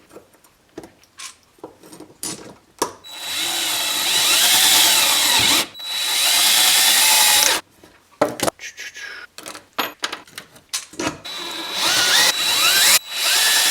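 A power drill whirs through PVC in several bursts, two long sustained runs and shorter revs, with scraping and handling noises in between.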